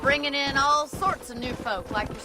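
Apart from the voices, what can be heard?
No everyday noise stands out behind the speech.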